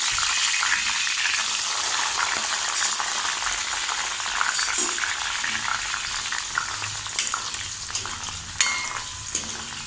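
Jackfruit slices deep-fry in hot oil for jackfruit chips, a dense, constant bubbling sizzle throughout, loud and close, with faint pops and crackles scattered on top.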